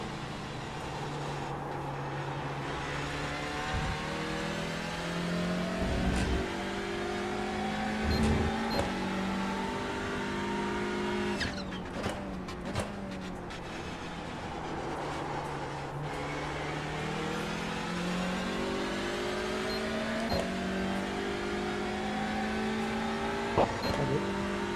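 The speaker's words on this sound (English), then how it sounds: "these cars sound really good, Ogre." Race cars lap Daytona during the Roar Before the 24, engines rising and falling in long pitch sweeps as they pass. The sound is steady and moderately distant, with a few sharp transient bursts in between.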